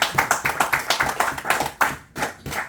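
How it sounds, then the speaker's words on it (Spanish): A church congregation claps for Jesus in a quick, uneven flurry of sharp hand claps, near and lively, thinning into a few separate bursts before stopping. "Denle un fuerte aplauso a Jesucristo"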